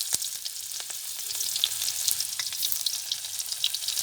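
Onion dropped into hot oil with panch phoron in a kadai sizzles in a steady, bright crackle, with a few sharper pops and light stirring scrapes close by.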